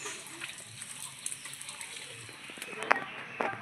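Water running from a tap while a banana flower is rinsed in a home kitchen, a soft continuous trickle with a few light splashes near the end, under faint background sounds.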